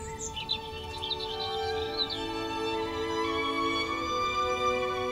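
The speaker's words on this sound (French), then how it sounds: "Tu vois, l'oiseau est toujours là" Birdsong chirps and trills float over a sustained orchestral film-score texture with violin, the bird calls clearest early on and then gently held back within the steady music.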